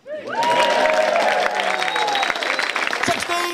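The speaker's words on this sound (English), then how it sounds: "Round of applause for Roy Ford." Audience at a Purbeck Art Weeks Festival poetry event applauds a poet, a dense, sustained burst of clapping and some cheering that rises quickly and holds steady for several seconds, with voices mixed in.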